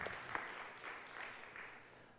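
Faint round of clapping from a district conference audience, a soft, fairly distant patter that continues evenly throughout without any speech.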